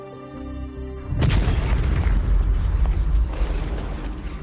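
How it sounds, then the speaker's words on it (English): An explosion in the TV series Money Heist: a quiet musical tone breaks off into a sudden loud boom, followed by a deep rumbling, crackling aftermath that keeps roaring for several seconds. "was that an explosion?"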